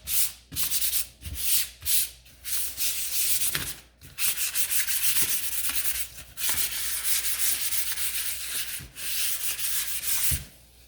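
Sandpaper rubs back and forth across a painted round wooden sign between coats, a steady close scratching broken by short pauses, with no voices.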